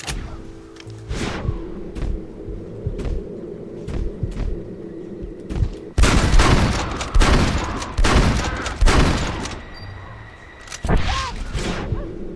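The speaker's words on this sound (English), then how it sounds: "Ja, mit Schnaps einfach mal ein paar Krähen abballern, das ist genau das Richtige." Repeated loud gunshots ring out in Red Dead Redemption while a player shoots crows on a farm, with sporadic single shots at first, then a rapid volley of close, sharp bangs.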